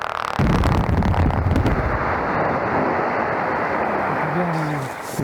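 A blasting explosion in a limestone quarry lets out a sudden loud boom and then a sustained, thundering roar of rock and debris. The noise stays powerful for several seconds before easing slightly at the end.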